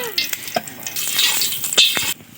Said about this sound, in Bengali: তেলটা গরম হয়ে গেছে, গরমের জন্য আমি শুকনো লঙ্কাগুলো প্রথমে দিয়ে নেব।